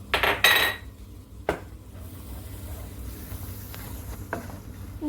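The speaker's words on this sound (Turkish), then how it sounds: "Şöyle sararana kadar karıştırarak kavuruyorum" Flour being stirred and toasted in melted butter in a pot: a metal spoon clatters and scrapes against the pot a few times over a faint low sizzle, near, with no talking.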